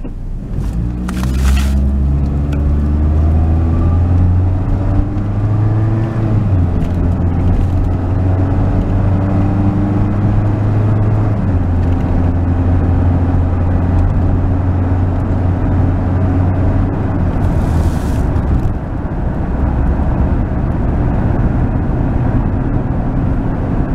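Continuous engine and road drone from inside a moving car after a transmission fluid change, steady and loud, with a few gear-change dips and brief clicks and no talking.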